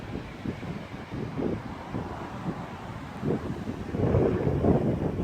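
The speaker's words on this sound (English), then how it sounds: "just really gusty, windy in front of the front" Gusty high winds ahead of a cold front buffet the microphone on a Christmas Eve night in Green Valley, Arizona, a steady roaring rush with repeated surges that swell louder toward the end, with no voices.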